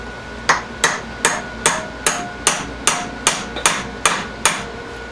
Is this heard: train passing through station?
no